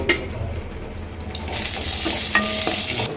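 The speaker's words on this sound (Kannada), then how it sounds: "ಒಂದು ಸ್ಪೂನ್ ಜೀರಿಗೆ ಹಾಕ್ಕೊಂಡು ಹುರ್ಕೊತಾ ಇದ್ದೀನಿ" Green chillies and a spoon of cumin seeds frying in a little oil, a soft crackling sizzle with stirring scrapes and a few clinks of a spoon against the pan, close up with no voices.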